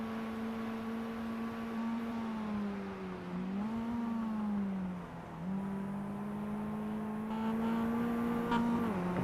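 Race car engine in the iRacing sim at Summit Point Raceway, a steady sustained drone whose pitch rises and dips with gear changes and throttle, loud and continuous with no talking.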